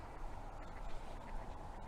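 Ducks at a pond quack in a busy, continuous chorus, with a windy, noisy outdoor wash underneath throughout.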